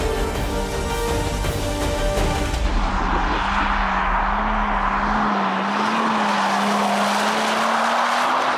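A Ferrari 296 GTB accelerates hard at full throttle, its loud engine note rising in pitch, with a screeching, skidding edge to the sound.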